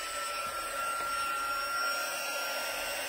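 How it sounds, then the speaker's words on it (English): A heat gun blows hot air in a steady, loud whoosh held at an even level the whole time, with no talking, while card stock for a fun-fold Christmas card is being warmed. "while I bring in the heat gun"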